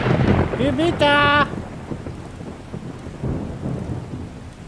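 A thunderstorm with rain in the video game 7 Days to Die: a rumble of thunder and steady rain, with a brief voice-like tonal sound over the start.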